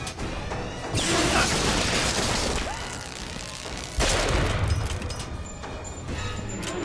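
Gunfire and crashing impacts in the first-person shooter Bioshock Infinite, loud dense bursts with a sharp new volley near the middle and metallic clatter toward the end, no talking.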